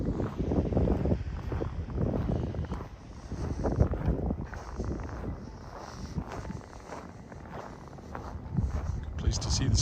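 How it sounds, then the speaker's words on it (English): Wind buffets the microphone during a downtown walk in Regina, Saskatchewan, on a snowy March evening, rumbling loudly in uneven gusts over a voice speaking throughout. "With the wind in my face."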